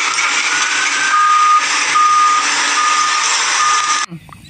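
A toy vehicle's electronic reversing beep repeats in a steady rhythm over a loud buzzing hiss, then cuts off abruptly near the end.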